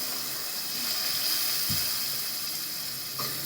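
Cooking water drained from boiled dal is poured steadily into a pot for Maharashtrian katachi amti, a continuous broadband splashing flow with a brief clunk partway through.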